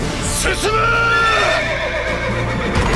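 A horse lets out a loud, close whinny that rises and then trails off in a long wavering neigh, with a low steady hum running underneath.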